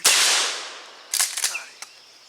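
A single loud, close gunshot rings out at a West Virginia squirrel hunt and fades away. A few sharp clicks and softer snaps follow, with no speech.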